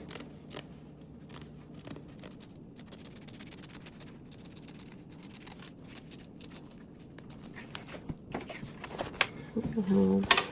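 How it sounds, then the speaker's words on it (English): Scissors trim excess fabric lining on a sewing project, a blanket backpack, with soft repeated snips under faint room noise. The cutting gets louder and denser near the end. "I can go ahead and trim off the excess lining"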